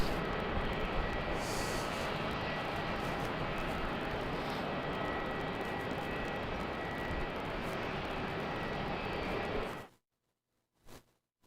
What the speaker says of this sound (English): runway 34 clear for takeoff